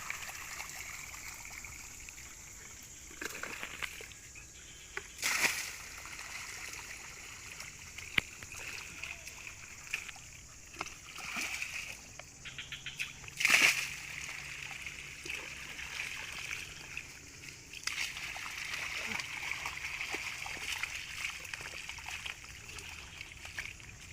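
Water is poured over gold-bearing material from old diggings and washed onto a carpet sluice. Faint, steady trickling and splashing with a few brief louder splashes, no voices.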